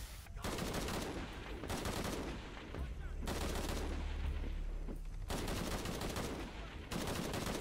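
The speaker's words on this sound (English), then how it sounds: "Dude, stop just blind firing and actually, like, attack these people." Gunfire in the action game Shadow of the Tomb Raider, long sustained bursts of loud automatic fire broken by short pauses, dense and continuous with a heavy low-end rumble.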